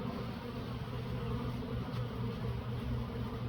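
A dense, continuous buzzing of many honey bees, steady and close, with no pauses.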